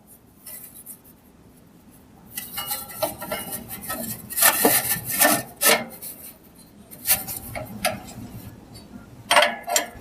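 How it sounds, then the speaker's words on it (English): Old baffle of a HearthStone wood stove lifted out of its secondary air manifold: close metallic scraping, rubbing and clunks in bursts, quiet at first, then repeated louder grinding scrapes and knocks, with no talk. "Now you can lift the baffle straight up and out of the manifold for replacement."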